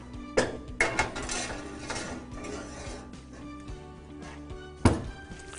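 An oven door is opened and trays of stuffed eggplant and cheese zucchini are slid in. Loud metallic clanks and thuds come close by, with scraping and rattling between them and a final heavy clunk near the end.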